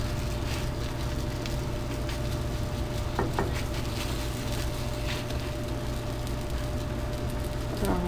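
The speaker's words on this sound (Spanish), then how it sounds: "Aquí estamos ya dándoles la vuelta a nuestras gorditas" Gorditas de chicharrón sizzle steadily on a griddle as they are flipped, a constant close crackling fry with a few faint utensil clinks over a low background hum.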